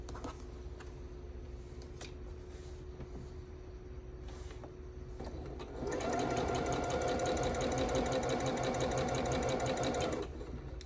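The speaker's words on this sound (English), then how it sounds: "So right sides together, sew corner to corner." A sewing machine stitches fabric pieces right sides together from corner to corner for a calico table runner, running in one steady, fast burst of about four seconds after quiet handling noises, close and clear with no talking.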